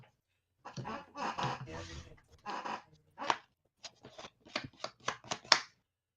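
A deck of trading cards shuffled by hand at a card game, with several quick riffling bursts and then a run of sharp separate card snaps, close and alone.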